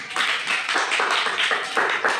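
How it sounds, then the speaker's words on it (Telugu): Children in a school classroom clapping together after a correct answer, a loud rhythmic run of about ten claps close by. "క్లాప్స్ కొట్టండి."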